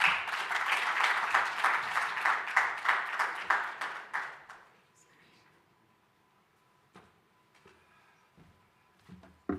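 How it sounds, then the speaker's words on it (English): Audience applause at a platform launch event, a burst of brisk clapping for a few seconds that quickly dies away, leaving a quiet room with scattered faint knocks and movement. "Another round of applause for Professor"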